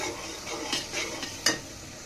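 Soft scraping of a spoon stirring prawn curry with spices in a pan at night, with a light sizzle underneath and a couple of brief metallic clinks, quiet and close.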